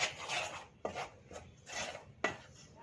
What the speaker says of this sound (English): Let me mix this well.